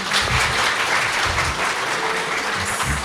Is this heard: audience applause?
yes